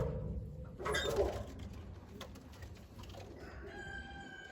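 Pigeons let out of a coop to fly give soft cooing and a brief flurry of movement near the birdhouse, fairly faint against a quiet outdoor background.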